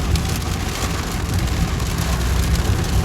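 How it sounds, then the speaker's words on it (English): Rain falls hard outdoors as the weather turns bad, a steady close hiss and patter of drops with a faint low rumble underneath. "What the hell's going on with this rain?"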